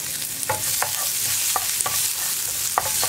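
Sliced shallots hit hot oil with fenugreek seeds for okra pachadi, setting off a loud, continuous sizzle with regular stirring scrapes and taps throughout and no voices.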